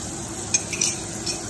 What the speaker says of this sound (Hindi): बटर हमारा मेल्ट हो गया है। अब मैं इसके अंदर गार्लिक को ऐड करूँगी।